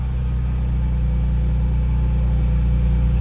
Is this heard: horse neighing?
no